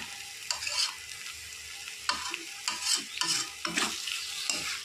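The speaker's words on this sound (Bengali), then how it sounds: "আর একটু কষিয়ে নেব, মশলাটা একটু ভাজা ভাজা হয়ে যাবে।" Meat, onions and spices stir-fried in a pan without oil, with the spoon scraping and stirring in bursts over a low, steady sizzle, close and alone with no talking.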